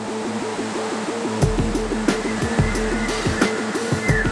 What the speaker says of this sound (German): Das Wasser schlägt mir mit enormer Wucht entgegen